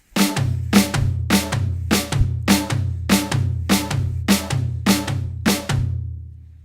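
Loud, evenly spaced drum kit hits strike about ten times in a steady rhythm, each with a booming low tail, and no voices, from a drum solo.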